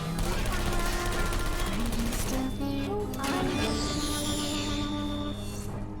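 Automated turrets fire in a portal-based puzzle video game, a dense, continuous rattle of rapid gunfire with layered game sounds, steady and loud throughout.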